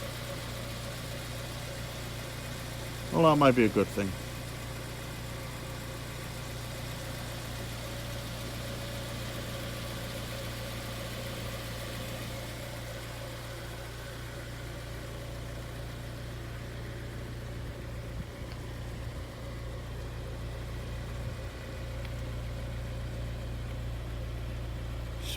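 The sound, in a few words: Honda Integra DC5 car engine idling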